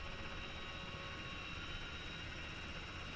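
A helicopter in the military game ARMA 3, a steady, even rotor and turbine drone heard from inside or close by, quiet and unchanging with no talk.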